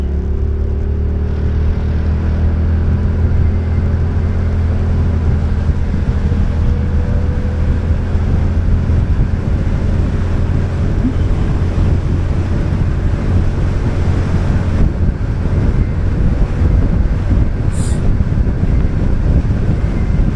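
Steady, loud road and wind roar from a motorcycle cruising on a highway at about 70 mph, with a constant low engine drone running continuously throughout, no talk.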